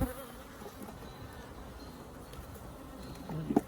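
Honeybees buzz and drone around an open hive during an inspection, a faint continuous insect hum close by, with a couple of brief knocks near the end and no talking.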